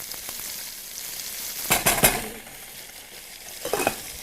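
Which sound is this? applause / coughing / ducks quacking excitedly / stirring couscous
stirring couscous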